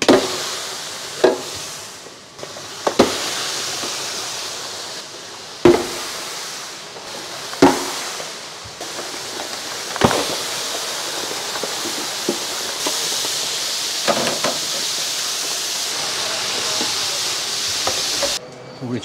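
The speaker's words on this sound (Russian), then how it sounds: "Ну и обжариваю всю дальнейшую курицу." Steady sizzling hiss of chicken breast frying in a pan, with occasional clinks and scrapes of a utensil stirring throughout.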